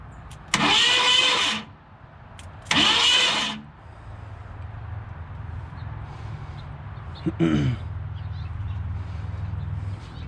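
The 289 Ford V8 in a 1967 Ford Galaxie 500 cranks over in two loud bursts of about a second each, then a third shorter one, with a low steady hum between them.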